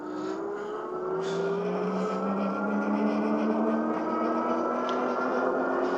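isinwheel M10 Pro electric bike climbing a hill in seventh gear: a steady motor whine rising slowly in pitch over a constant rush of wind and road noise, with no speech.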